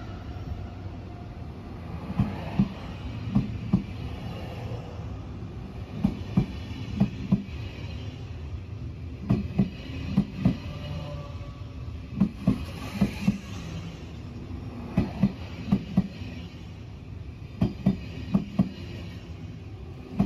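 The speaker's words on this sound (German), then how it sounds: "Hier nun die letzte Ausfahrt des EuroCity 8 mit Panoramawagen." EuroCity 8 train with a panorama car pulling out of Mannheim, steady rolling rumble with repeated clickety-clack wheel beats over rail joints throughout, heard from on board.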